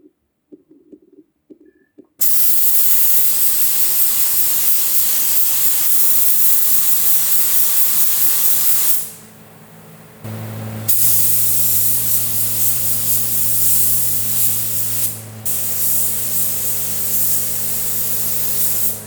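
A spray gun lays white base paint onto a Toyota AE86, a loud steady hissing spray in long bursts with a brief pause midway and a deeper rushing tone after it.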